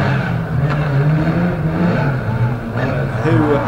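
Banger racing car reversing during an unlimited banger final at Kings Lynn, a loud, steady, rough engine drone with slight revving, heard alongside continuous commentary.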